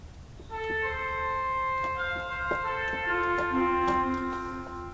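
Pipe organ playing a short phrase on the swell trumpet reed stop backed by an 8-foot principal, sustained bright chords with moving inner notes, steady and fairly loud in a reverberant space, no voices.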